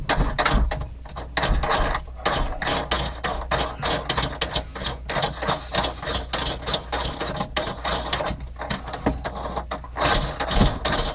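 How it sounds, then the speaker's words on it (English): Screws are loosened on a kitchen faucet during a faucet swap, producing close, repeated bursts of clicking and ratcheting with short pauses between turns. "loosen up these couple screws here just a little bit, and then we can turn it off of there"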